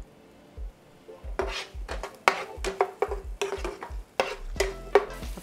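Vegetables cooking down in a pan for a keto lasagna, with a soft sizzle beneath repeated scrapes and knocks of a utensil stirring against the pan, quiet and close with no talking.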